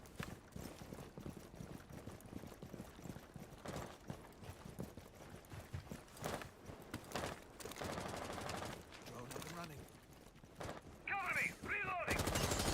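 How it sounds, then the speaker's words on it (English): Gunfire in a competitive Rainbow Six Siege collegiate match as attackers push toward a bomb site, with scattered shots and bursts through busy in-game noise, growing louder near the end. "we see shots fired already from Surma into the point"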